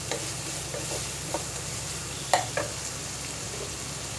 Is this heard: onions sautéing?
yes